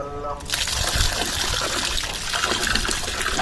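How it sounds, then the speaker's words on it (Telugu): Water being poured into a container to soak rice, a continuous splashing trickle close to the microphone that begins after a brief pause and runs steadily. "బియ్యం నానటానికి కొంచెం నీళ్ళు అయితే పట్టుకున్నాను"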